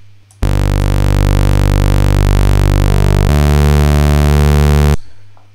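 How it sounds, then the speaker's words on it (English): A sustained saw wave run through Soundtoys Decapitator distortion with the drive set high gives a loud, buzzy, harmonically dense tone. It holds steady for about four seconds, shifts pitch and character partway through, then cuts off abruptly. "I loaded a distortion on that channel, and I'm gonna go for Soundtoys Decapitator"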